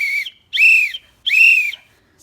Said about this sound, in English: when you hear me blow my whistle 3 times, that's when you know it's time to line up.